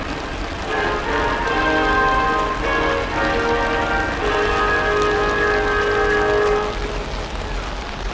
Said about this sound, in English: I am currently under an umbrella because it's pouring down rain.